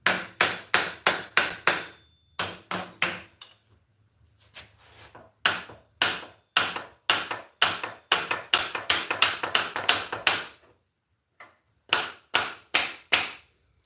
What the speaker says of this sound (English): You notice I'm just using a hammer handle to jar this loose.